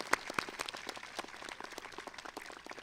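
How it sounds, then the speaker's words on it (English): An audience applauds at the Putnam Valley High School Class of 2018 graduation ceremony, with dense, steady clapping from many hands throughout and a few sharper claps standing out near the start. "Please let's give them a huge round of applause for their years of dedication and service to the community."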